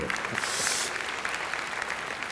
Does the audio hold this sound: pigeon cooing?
no